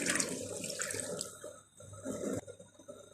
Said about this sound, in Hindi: दाल मैंने डाल दी है इसमें, और ये मैं 1 कप डालूंगी दूध